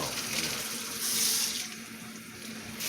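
Water runs from a kitchen tap as turkey is washed before deep frying, a steady close hiss that swells for a moment and then settles.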